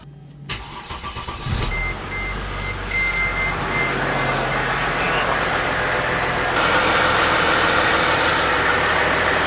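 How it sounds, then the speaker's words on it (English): A Mercedes GL320 CDI diesel with its muffler deleted starts up and settles into a loud, steady, close idle, with a few electronic chime beeps early on. "we're gonna fire up the old diesel here, let it sit here and idle for a while"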